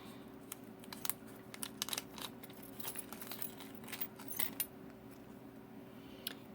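Metal pen nibs slipped back into small bags, making faint, close, irregular little metallic clicks and clinks with soft bag rustling over quiet room hum.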